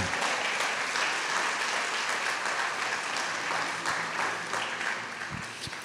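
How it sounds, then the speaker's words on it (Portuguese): Church congregation applauding together, a dense steady wash of clapping that holds loud throughout and eases slightly at the very end. "Você pode dar uma salva de palmas para Jesus"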